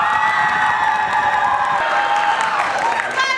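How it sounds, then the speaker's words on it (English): A school comedy-improv audience in a high school auditorium applauds and cheers loudly, a continuous roar of clapping mixed with shouts and whoops from many voices that holds at full volume throughout. "Applaud right now if you enjoyed Spoon River!"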